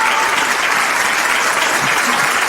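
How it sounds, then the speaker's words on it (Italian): A studio audience at a radio-TV broadcast applauds loudly and continuously, a dense, even clapping with no pauses. "Facciamo un grande applauso a tua dai. mamma"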